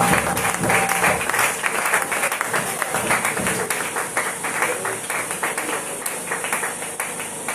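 A church congregation applauding steadily, dense clapping filling the space throughout with crowd voices and some talk mixed underneath.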